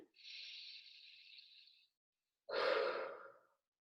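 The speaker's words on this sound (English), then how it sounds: "Take a deep breath in." A slow, deep breath: a long, soft inhale lasts nearly two seconds, then after a short pause comes a fuller, louder exhale, close up in a quiet room.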